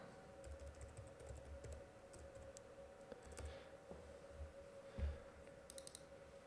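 Quiet, close computer-keyboard typing of a preset name, scattered light key clicks with one firmer tap near the end.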